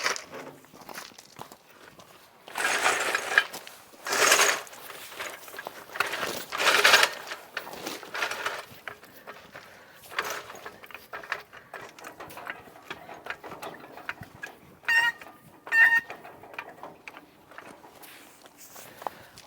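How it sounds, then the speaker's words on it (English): A jack ratchets up one side of a car left abandoned for two years, giving a series of close, uneven mechanical clicks and clanks in bursts, with quieter gaps between them. "I'll jack up that side a little bit."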